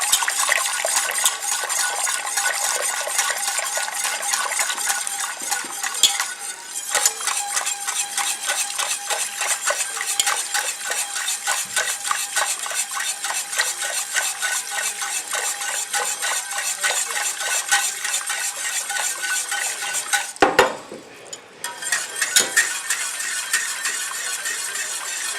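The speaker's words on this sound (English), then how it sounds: "I'll go with the whisk." A whisk beats cream of chicken soup with thyme in a pot, making a fast, steady metallic clinking and scraping against the sides that runs almost continuously, with short breaks near the start and toward the end.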